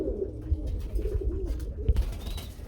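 Blue pigeons at a pigeon market coo in low, rolling throaty bursts, several overlapping close to the recorder against a faint background murmur.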